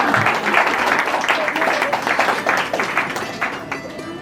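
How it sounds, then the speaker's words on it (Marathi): An audience claps steadily with dense, uneven handclaps throughout, while a voice talks over it. "जरा टाळ्या वाजव ना"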